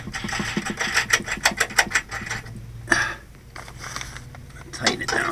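A 9/16 wrench tightens a star-washer nut down onto a bolt on the bed end of a 1978 Apache Ramada camper, giving a run of close, quick ratcheting clicks that pause, then a few more scattered metallic clicks.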